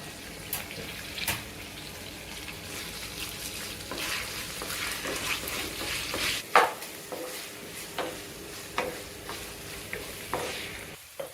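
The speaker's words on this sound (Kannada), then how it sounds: "ನಾನಿಲ್ಲಿ ಒಂದು ದಪ್ಪ ಈರುಳ್ಳಿನ ಕಟ್ ಮಾಡಿ ಇಟ್ಕೊಂಡಿದ್ದೀನಿ, ಹಾಕ್ಕೊಳ್ತಾ ಇದ್ದೀನಿ." Thick-cut onion frying in oil for tomato chicken gravy, a moderate sizzle with scattered clinks and stirring scrapes, and faint running water nearby.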